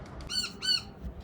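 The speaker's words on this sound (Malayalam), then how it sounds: "ഈ മുകളിലിരുന്ന് കൂവിക്കൊണ്ടിരിക്കുന്ന കിളിയുണ്ട് നല്ല രസമാണ് അതിൻ്റെ ഒച്ച" A bird perched high in a tree gives two sharp, fairly close squawks in quick succession, with the start of a third at the very end.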